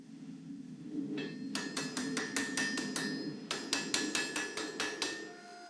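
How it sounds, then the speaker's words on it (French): Hand hammer blows on a forge-welded mosaic damascus billet for a Bowie knife, two fast bursts of ringing metallic strikes in quick succession over a steady forge roar, loud and close. "j'ai utilisé mon marteau à main pour les refermer"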